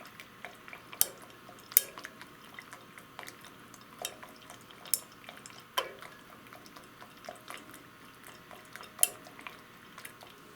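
Small metal or glass utensil clinks and taps against a container while a copper patina solution with a pinch of added sulfur is stirred, scattered light knocks over a quiet background, no talking.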